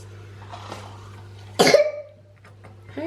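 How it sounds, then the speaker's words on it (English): A young child lets out a sharp, loud cough burst with a short rasping tail, following quiet room tone with a steady low hum, and a faint second sound near the end. "Hey, stop coughing."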